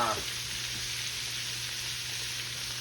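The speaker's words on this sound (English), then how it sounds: "So what I'm gonna do, I'm gonna just brown them off" Pork chops browning in a hot pan give off a steady, loud sizzle and crackle, with bright hiss and no talking over it.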